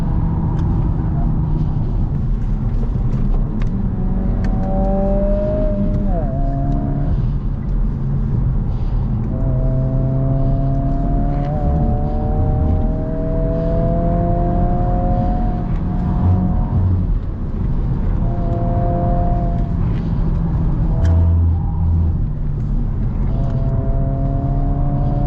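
A 2022 Honda Civic Si driven hard on a winding canyon road, heard from inside the cabin: steady engine drone and road rumble throughout, with rising and falling pitch sweeps as it shifts gears and accelerates through the bends.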